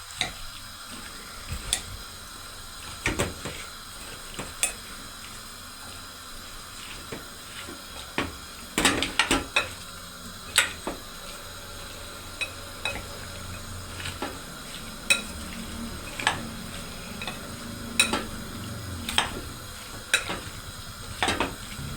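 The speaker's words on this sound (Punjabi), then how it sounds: "ਕੱਲਾ ਕੱਲਾ ਪਿਆਜ਼ ਕਰ ਲਿਆ ਉਹ ਤੋਂ ਬਾਅਦ ਆਪਾਂ ਇੱਕ ਮੂੰਗੀ ਦੀ ਦਾਲ ਦੀ ਕੌਲੀ ਪਾ ਲਈ ਇਹਨਾਂ ਨੂੰ ਚੰਗੀ ਤਰ੍ਹਾਂ ਹਲਾ ਲਈ" Sliced onions and moong dal being mixed by hand in a bowl for pakoras, giving repeated soft scraping and clinking strokes at an uneven rhythm, close up with no speech.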